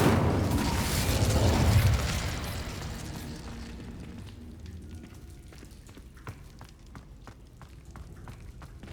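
A fire spell bursts in Hogwarts Legacy with a loud whooshing boom that swells over the first two seconds and fades into quiet ambience with light footsteps.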